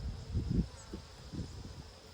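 Honey bees buzz around an open hive during a summer hive check, with a low droning hum that swells in short bursts, as if individual bees fly close past, over a steady background murmur.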